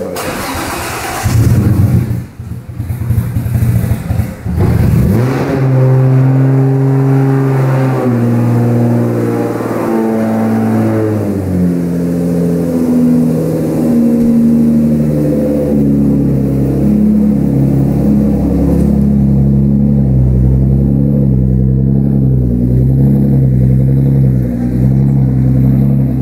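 A car engine in Forza Horizon 4 cranks and catches, then revs up and down in loud, steady waves before settling into a rough idle.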